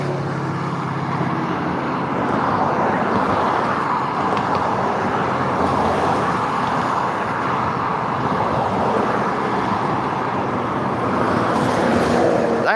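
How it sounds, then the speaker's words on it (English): A Dalton Police Department car, vehicle number 73, passing on a road, heard as a steady broad roadway rush that holds loud throughout with no clear rise or fall. "That was vehicle number 73 with the Dalton Police Department that just passed by"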